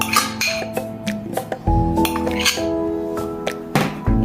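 Chopped shrimp and tofu filling being stirred in a bowl, with repeated clinking and scraping of a utensil against the dish in close, irregular taps.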